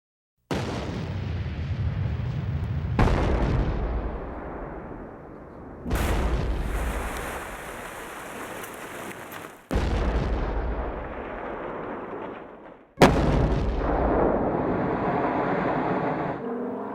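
Rock blasting at the Crazy Horse Memorial mountain carving in South Dakota: five loud, separate explosions in sequence, each a heavy booming burst that rumbles and slowly fades before the next one hits, with no voices.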